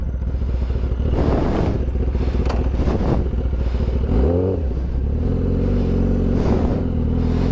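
An X10R motorcycle engine runs roughly on a struggling ride home after a hard start, a loud close rumble with uneven revving swells and a brief dip near the middle.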